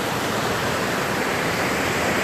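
Cachoeira da Bica waterfall beside highway BR-262, a loud, close, unbroken roar of falling water filling the whole stretch with steady broadband rush and no voices.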